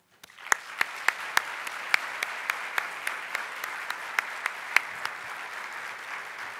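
An audience at a distracted driving summit applauds to welcome General Kevin Bergner, a steady, moderately distant wash of clapping from a crowd with sharper individual claps standing out, continuing for several seconds.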